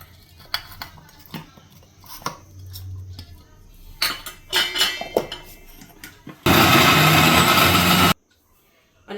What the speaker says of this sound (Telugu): ఇది మిక్సీ జార్లో వేసేసుకుంటున్నాను